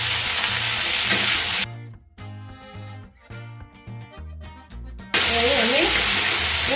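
Paneer frying in a pan for chilli paneer, a loud dense sizzle that drops away for a few seconds while a musical passage plays, then surges back just as loud.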